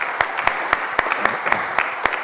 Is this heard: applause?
yes